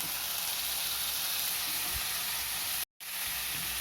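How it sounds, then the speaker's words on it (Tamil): Tomato, mint and garlic paste sautéing with golden-brown onions in a pan, giving a steady, close sizzling hiss throughout with one brief dropout near the end. "இந்த பச்சை வாசனை போகிற அளவுக்கு நம்ம வதக்கிக்குவோம்"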